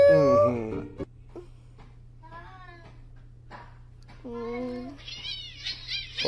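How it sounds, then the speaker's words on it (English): Cats fighting, with a shrill yowl followed by scattered meows and wavering cries over a steady low hum, while a person talks quietly in between. "Oh, cat fight."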